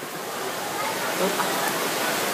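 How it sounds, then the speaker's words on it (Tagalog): Heavy rain pours steadily in a broad, even hiss, moderately loud and constant, with a faint voice barely audible beneath it. "Ayan, ang lakas ng ulan, no?"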